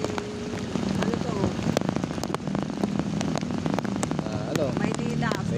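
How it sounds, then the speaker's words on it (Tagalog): Heavy rain falling outside a hospital in Manila, a steady dense patter with scattered sharp drop hits throughout, with some faint background sounds mixed in. "umuulan at malakas ang ulan"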